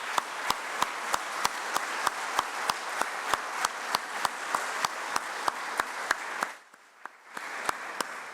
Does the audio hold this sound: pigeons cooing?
no